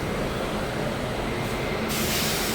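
A Vijayawada-based WAP-7 electric locomotive hauls a train past on the Howrah–Chennai main line near Bhimadole, a steady, loud, close rushing roar that swells slightly toward the end.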